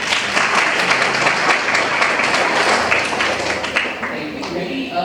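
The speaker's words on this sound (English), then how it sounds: "Please give a round of applause" An audience at a Model United Nations competition applauds a judge being introduced, with full crowd clapping that stays dense and loud before thinning slightly toward the end.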